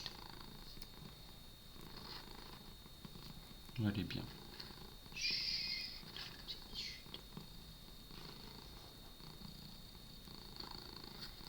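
Domestic cat purring softly and close, a faint continuous rumble under low background noise, with a few brief rustles and someone speaking quietly at one point.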